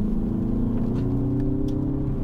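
A 2021 MINI Convertible John Cooper Works accelerating, the engine note rising steadily as a smooth, continuous drone heard from inside the car.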